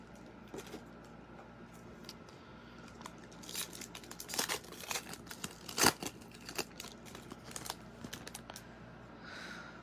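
Football trading card packs are shuffled by hand, with soft papery crinkles, slides and quick flicks at close range, quiet at first and then busier, with a few sharper snaps midway.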